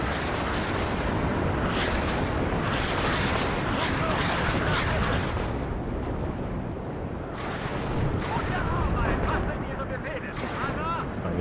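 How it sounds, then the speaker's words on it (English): Rolling, overlapping booms of rocket artillery fire in the Cold War strategy game WARNO, a dense, continuous barrage of explosions that swells and fades, with someone talking over it. "I forgot about the rocket artillery."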